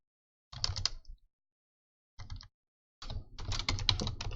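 Java code is typed on a computer keyboard in three bursts of quick, close key clicks separated by short silences, with the last burst the longest and busiest.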